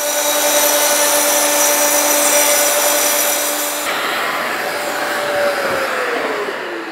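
A Festool OF 1010 plunge router runs at high speed, cutting a trench in wood with a loud steady whine that shifts and gradually winds down as it finishes.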